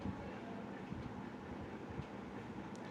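Rumbling, dense railway noise of a train running on the tracks in a film scene, a steady broadband roar with faint clattering, continuous and fairly distant with no talk.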